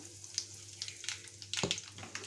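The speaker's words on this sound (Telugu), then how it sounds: "అలాగే కొంచెం ఆవాలు కొంచెం ఇంగు వేస్తున్నాను" Mustard seeds and asafoetida sizzle in hot oil for a chutney tempering, a steady crackling fry with sharp pops and spits, one louder burst near the end, heard close with no talking.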